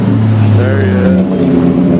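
A supercar engine, a rare Ferrari F50 by one account, revs loudly and close up with a rising, sustained tone that dominates the scene.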